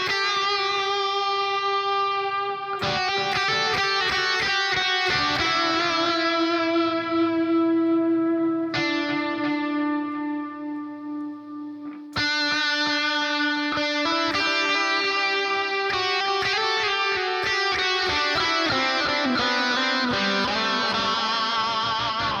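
Electric guitar played through the Neural DSP Archetype Plini amp-sim plugin with delay engaged, clean sustained chords and picked notes ringing out with trailing repeats, a few distinct chord changes across a long, full passage.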